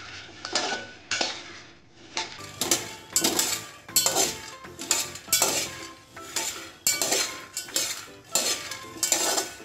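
Peanuts roasting dry in a metal pan for jaggery ladoos are stirred with a spoon, giving a rhythmic series of loud scraping, rattling sweeps that recur about every second, close and with no voices.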